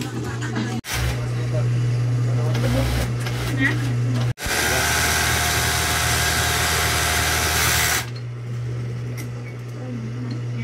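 A Siruba overlock sewing machine with a shaking needle clamp holder runs loudly after adjustment, a dense steady motor whir that stops abruptly and restarts, then settles into a lower hum, with a voice talking faintly.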